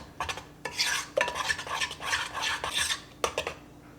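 A utensil scrapes and clinks around a bowl while wet ingredients with vanilla extract are mixed, giving quick irregular strokes in bursts over a few seconds, close and clear.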